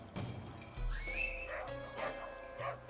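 A dog in a video game yips and whimpers in short bursts over a low electronic hum and game-like effects, moderately close.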